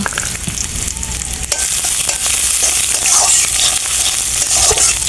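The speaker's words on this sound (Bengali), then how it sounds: "পেঁয়াজ কুচি দিয়ে দিব" Chopped onion sizzling in hot white oil with cumin seeds in a heated wok, a loud, dense, continuous frying hiss with occasional stirring scrapes, close and with no talking.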